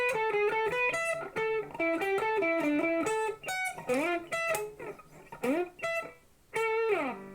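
An electric guitar plays a lead riff, quick picked notes and slides with a bright, slightly driven tone, fairly loud and alone.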